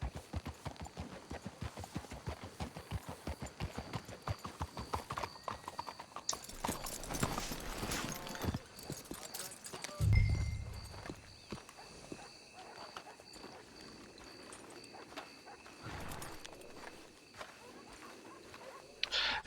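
Horse hooves clip-clop at a steady walking pace in Red Dead Redemption 2, a brisk run of close, even footfalls that later thins out amid game ambience and a louder thud.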